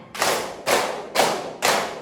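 A group claps in unison four times at an even, steady beat, each clap a full, loud crack that stands alone with no talking between.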